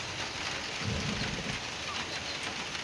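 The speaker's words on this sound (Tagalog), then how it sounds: "Thank you Lord sa ulan, balag hinay." Gentle rain falls steadily outdoors, a soft, even hiss of drops with a slightly fuller low patter midway, no voices heard.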